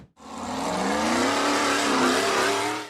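A green off-road buggy engine revs hard and climbs steadily in pitch as it accelerates up a rough, rocky dirt slope, loud and close, with a sustained droning roar and no voices.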